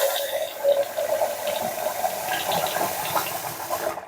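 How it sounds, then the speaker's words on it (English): Tap water runs steadily from a kitchen faucet over nearly frozen corn and peas, a continuous close splashing gush that holds even for about four seconds and then stops abruptly. "So first of all, run it under the water."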